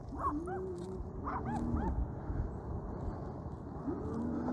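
Several puppies yip and bark in short, high, overlapping bursts at moderate distance, with whimpering notes over a steady low background rumble.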